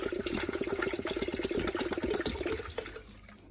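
Water being poured into an electric kettle, a short burbling trickle of liquid filling the vessel, fairly quiet and close, tapering off near the end.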